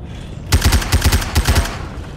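Rapid burst of gunfire in Left 4 Dead 2 zombie combat, about a dozen sharp, loud shots fired in quick succession over roughly a second, then a low ambient hum.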